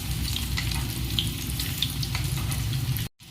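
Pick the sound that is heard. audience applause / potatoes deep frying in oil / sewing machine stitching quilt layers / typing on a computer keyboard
potatoes deep frying in oil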